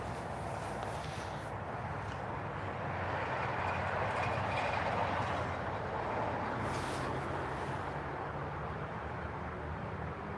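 A train rumbles past the Stevenson railroad depot, a continuous broad roar of wheels and cars that swells gently through the middle and holds steady, with no voices heard.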